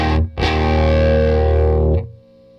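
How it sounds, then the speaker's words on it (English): A loud, sustained distorted electric guitar chord through a Trinity Amps Tweed tube amplifier rings for about two seconds after a brief first stab, then cuts off, leaving a faint buzzing hum. "it starts doing that wonky kind of distortion thing"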